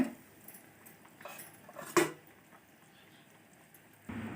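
Small fish being stirred in a pan, with a few quiet metal clinks and scrapes of a utensil against the pan, one sharper knock in the middle, faint and close.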